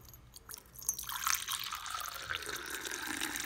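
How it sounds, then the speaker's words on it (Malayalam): Hot masala tea being poured into a cup, heard as a steady, close liquid stream that starts after about a second and runs on continuously without talk. "ഇപ്പൊ അതാ നമുക്ക് ഈ ചായ ഒരു കപ്പിലോട്ട് ഒഴിച്ചു കൊടുക്കാം."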